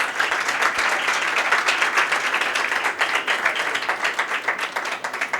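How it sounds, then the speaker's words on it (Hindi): A church congregation claps loudly and steadily throughout, a dense wash of applause with no pauses and no talking. "आइए हम ज़ोर से खुदावंद यीशु मसीह के लिए तालियां बजाएं।"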